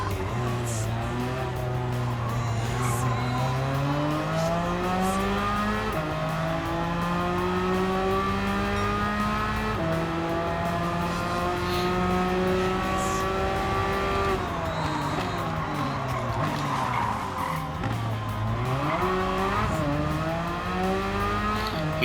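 Gran Turismo 7 car engine droning and climbing through gears as it's driven hard, with steady revving pitch sweeps, downshifts and faint tire squeal, loud and continuous throughout.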